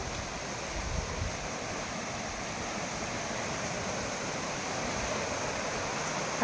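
A strong water current rushes past just behind a house in a continuous, even roar of broadband noise, steady from start to finish and fairly quiet overall.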